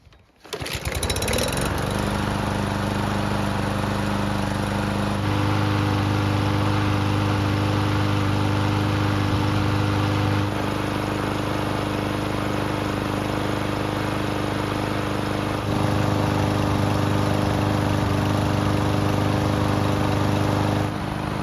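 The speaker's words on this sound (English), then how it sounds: "So the engine's been running for the last several minutes, and it should be good and hot." A lawn mower engine with a hot-start problem starts up and then runs steadily at a loud, constant drone, with slight shifts in pitch partway through.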